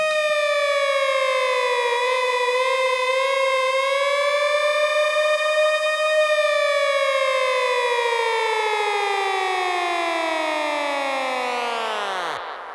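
A dub siren wails on one high, wavering tone for several seconds, then sweeps steeply downward and cuts off. It is loud and close, with no voices.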